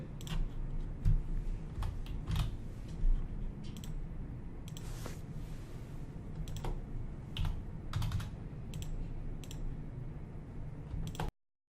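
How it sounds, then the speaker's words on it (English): Computer keyboard being typed on at a desk, with irregular clusters of crisp keystrokes and occasional clicks over a quiet room hum, close and moderately loud. "I'm going to code the jobs by simply typing and selecting the corresponding codes"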